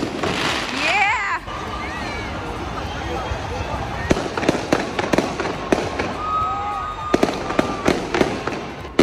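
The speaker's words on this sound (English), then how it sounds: "Right after the last firework at 10 minutes into midnight" Fireworks burst and crackle repeatedly at midnight on New Year in London, sharp pops and booms in irregular clusters over a steady background of distant noise and voices.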